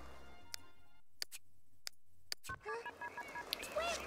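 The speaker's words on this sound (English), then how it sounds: "let's get Betty on the phone then" Phone dialing in The Sims 2: a handful of sharp, evenly spaced tick-like key presses over near silence, followed by a brief burst of tones and beeps from the phone line.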